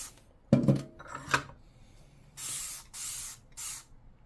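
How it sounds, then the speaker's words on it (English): Dawn Powerwash dish spray goes onto dishes in three short, even bursts of bright hissing mist, each about half a second, following a few clattering knocks of dishes and the bottle being handled. "If you spray from far away, it's easy to coat stuff."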